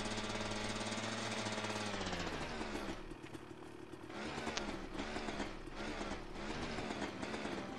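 Rivet gun firing in rapid, rattling bursts at a construction site in the video game A Way Out, loud and dense against a steady mechanical clatter, with a brief tonal swell at the start.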